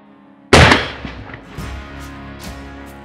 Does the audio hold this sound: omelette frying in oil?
no